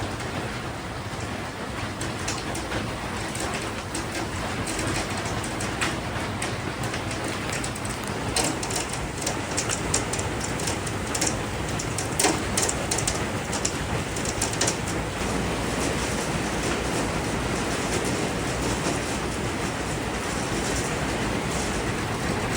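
Heavy, continuous downpour of rain and hail over water near a boat-access house, roaring steadily, dense with sharp crackling impacts of hailstones pelting surfaces, loud and unbroken throughout.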